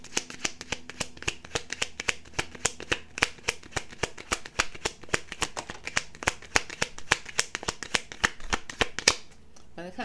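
Tarot cards being shuffled by hand, a long run of quick, crisp riffling flicks close up, with a brief pause near the end.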